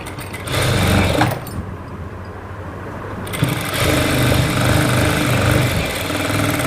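A sewing machine stitches piping onto a blouse in loud close whirring runs, pausing briefly before starting again and stitching steadily.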